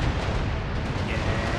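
Naval ship cannons fire in the Empire: Total War battle, a dense, continuous rumble of overlapping booms and blasts with no clear gaps, loud and close.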